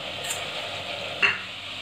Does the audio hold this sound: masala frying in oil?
yes